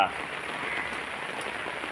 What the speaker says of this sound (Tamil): நல்லா சூப்பராக மழை பெஞ்சிருக்கு